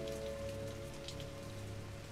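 Steady rain falling during a film scene, a dense continuous hiss of drops spread evenly across the short stretch with a low sustained hum beneath, no voices.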